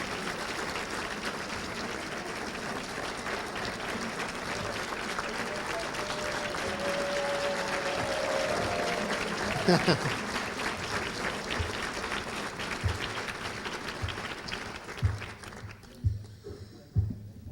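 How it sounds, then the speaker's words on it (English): Sustained applause from the audience at the 2012 Lehman College gala for the students, a steady dense roar of many hands for about fifteen seconds before thinning out into scattered claps and quieter room sound. "let's give these young men and women a round of applause"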